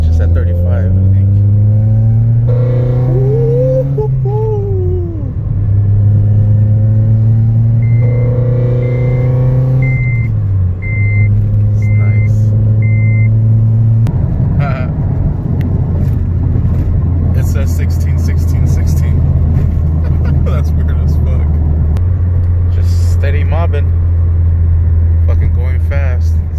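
A tuned car's engine drones loud and close while driving, rising and falling in pitch through shifts with a strong surge as revs climb, and people talk inside the cabin over it.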